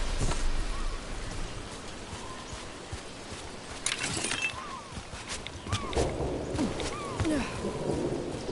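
Rain in the video game Dragon Age Veilguard hisses steadily across the scene, with scattered brief cracks and faint rumbles layered over it, heard alone.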